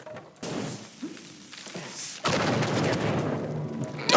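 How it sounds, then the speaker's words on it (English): A few thuds and bursts in the game Uncharted 4, then from about two seconds a loud, sustained rumble of explosions that keeps building toward the end. "Dodge all the explosions."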